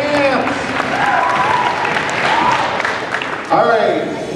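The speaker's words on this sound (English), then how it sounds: "Let's give them a loud cheer. Louder!" A school assembly crowd cheers and applauds teams in a large room, a loud continuous roar of clapping and shouting with a few voices rising above the noise.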